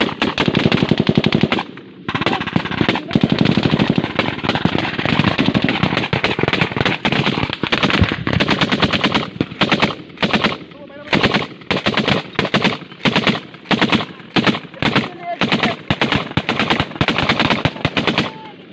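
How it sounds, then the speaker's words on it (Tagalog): Rapid, sustained gunfire erupts in a firefight involving soldiers, with a sniper among the shooters: dense, loud bursts and volleys of shots crackling almost continuously, broken by brief pauses, with shouting voices faintly under the shooting. "Sniper, sniper."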